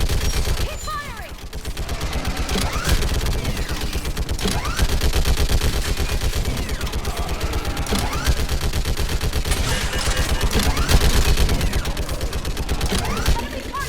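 Sustained gunfire from a Mass Effect 3 firefight, dense overlapping shots and bursts rolling on for the whole stretch, loud and close, with battle noise and shouted voices mixed in.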